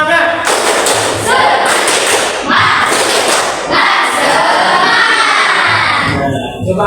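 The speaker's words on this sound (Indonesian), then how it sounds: "Sekarang kalau gitu kita coba tepuk semangat, biarkan semangat, biar tidak ada yang ngantuk." A class of seventh-grade students in an Islamic religious education lesson join in a classroom spirit clap: loud, dense clapping and thumping mixed with children's shouting, running continuously and close by.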